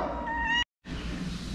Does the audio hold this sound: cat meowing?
yes